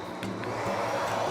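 An electric shaver switched on, with a steady motor buzz running throughout, close to the mic and fairly loud on its own.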